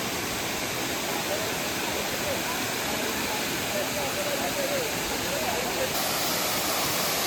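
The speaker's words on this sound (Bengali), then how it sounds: "শুধুমাত্র ফলসের আওয়াজ।" Gillis Falls waterfall pours in a steady, unbroken roar of rushing water that stays even and fairly loud for the whole stretch, with no other sounds standing out.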